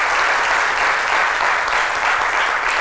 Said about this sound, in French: On applaudit Anissé.